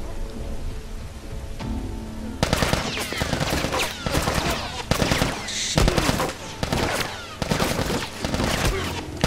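Enemy gunfire in The Last of Us Remastered: a quiet opening gives way to rapid, loud, repeated bursts of shots that keep coming in clusters, close and harsh.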